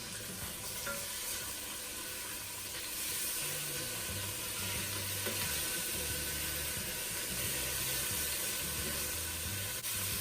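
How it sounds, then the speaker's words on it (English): Pork chops searing in a Ninja Foodi pan give a loud, steady hissing sizzle throughout, with a low voice faintly audible underneath. "and sear the other side"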